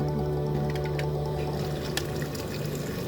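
Water is poured from a container into a cooking pot of vegetables and tender beef for a Thai mixed-vegetable soup, a continuous splashing pour with light drips, close and steady throughout.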